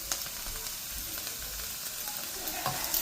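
Spices toasting with onions in a hot pan give a steady, close sizzle and crackle throughout, with a few stirring scrapes and no talk.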